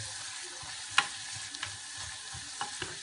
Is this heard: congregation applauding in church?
no